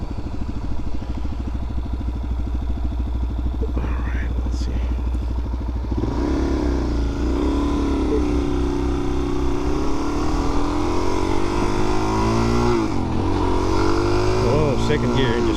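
Suzuki DRZ400SM supermoto engine droning steadily and loud throughout, with revving and acceleration as the pitch climbs and shifts, heard up close from the rider's position with some wind.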